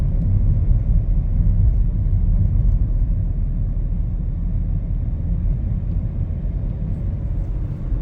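A car with an IMT (intelligent manual transmission) cruises in fourth gear at moderate engine speed, a steady, deep engine and road rumble filling the cabin without pause or voices.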